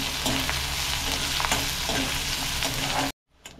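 Chopped large onion sautéing in hot oil with curry leaves, a dense steady sizzle with soft stirring scrapes, close and loud, cutting off abruptly near the end to a brief quiet pan noise.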